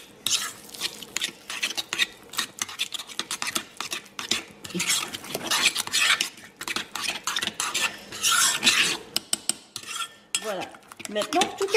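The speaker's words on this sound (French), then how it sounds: "Je mélange le tout." A spoon stirs cayenne pepper and salt into a chicken marinade for butter chicken, producing close, wet scraping and clinking against the bowl in irregular bursts over roughly twelve seconds, with no voices.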